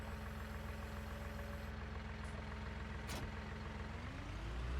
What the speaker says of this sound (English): let's use this tractor to do so.